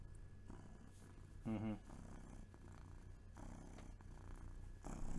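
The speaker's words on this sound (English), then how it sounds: "Purr into the microphone." A cat purrs softly up close in a low, steady rumble, interrupted once by a brief louder vocal sound partway through.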